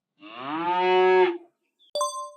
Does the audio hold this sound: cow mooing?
yes